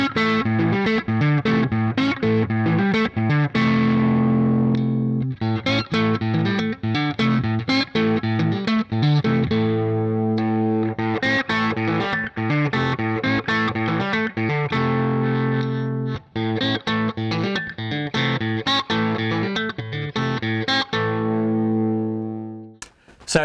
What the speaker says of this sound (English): now I'll show you the coil split sort of tones